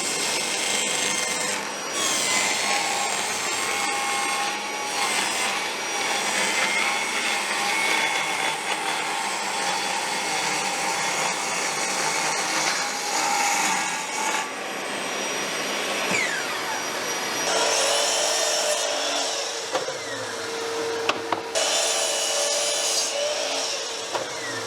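Power saw cutting birch plywood for a woodworking shooting board jig, a loud continuous whine and rasping cut running steadily throughout with brief shifts in pitch as the blade works through the sheet.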